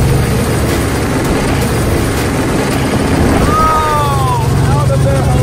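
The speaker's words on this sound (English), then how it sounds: "Okay, I think Stove definitely had enough of this helicopter" A helicopter's steady rotor and engine roar fills the whole stretch, loud and close, with a brief whistling whine rising near the end.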